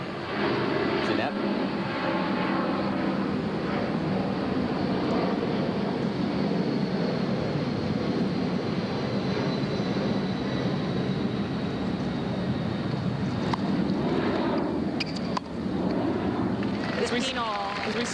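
A propeller or jet airplane passes overhead during a 1986 US Open semifinal tennis match, a steady, loud, broad roar that fills the whole stretch without letting up.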